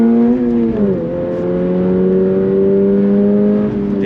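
A 2024 Toyota GR86 Performance Pack engine roars loudly under steady throttle, its pitch dipping briefly at a gear change before holding a strong, continuous drone.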